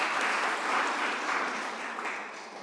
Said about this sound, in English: So maybe we will have applause to our guest.